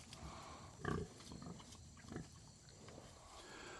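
Pigs on a farm pasture, with a burst of grunting near the one-second mark and another softer grunt later, set against a quiet outdoor background.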